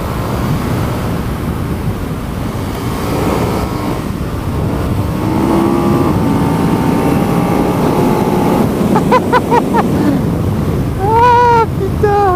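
A 2020 KTM Super Duke 1290 R motorcycle engine pulls hard through a bend without a gear change, its rising whine climbing under heavy wind rush, then revving in quick bursts near the end.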